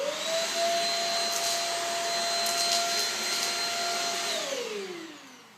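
A Shark Rocket vacuum cleaner runs on carpet, a loud steady whine with an airy roar that holds level, then drops in pitch as the motor winds down at the end.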